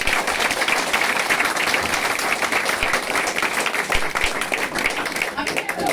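Sustained applause from a large audience, dense and steady throughout, with no pauses.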